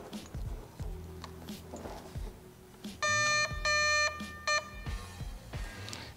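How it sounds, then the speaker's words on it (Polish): An airsoft gun's ASCU electronic trigger unit emits two long electronic beeps followed by one short beep, clear and close over faint mechanical handling noise. "nastąpiły dwa długie piknięcia i jedno krótkie"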